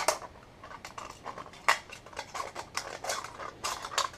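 Scissors snipping through a thin tin pop can, a string of light metallic clicks and crinkles, fairly quiet and close, irregular cuts spaced across the moment with no talking.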